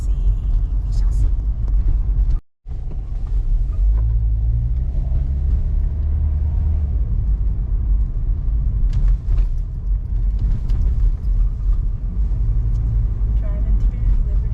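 A car drives through city streets in Liberty Village, its engine and road rumble a loud, steady low drone from inside the cabin, with one brief dropout and faint voices underneath.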